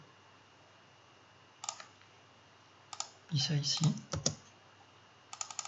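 Scattered key presses and clicks on a computer keyboard and mouse while drawing dice in SketchUp, coming in short bursts with a spoken word among them.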